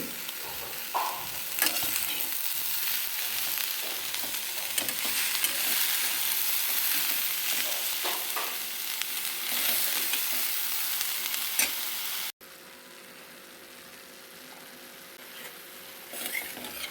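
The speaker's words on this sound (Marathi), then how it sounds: "हे सगळं छान मी आता मिक्स करून घेते" Sprouted moth beans for usal get stirred in a hot pan, a spoon scraping and turning them through a continuous sizzle; the sound cuts sharply near the end to a quieter, duller texture with no one speaking.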